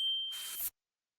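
A notification bell dings once in a brief, faint, high tone, followed by a short airy swish that cuts off abruptly into silence.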